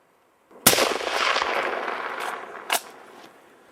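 A rifle shot rings out during a moose hunt in Alaska or the Yukon: one sharp, loud crack with a long rolling echo outdoors, followed by a second fainter bang about two seconds later.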